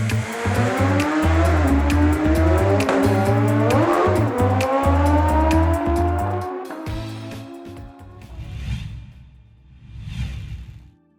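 Drag race cars at Kuwait Motor Town roar and rev with squealing tires, then two fainter whooshing passes fade in and out at the end.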